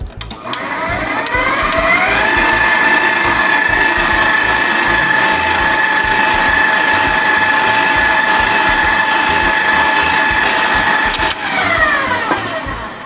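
Electric mixer whirring through Oreo pound cake batter as flour and milk go in, a loud steady mechanical whine that spins up, runs evenly for several seconds, then briefly dips near the end.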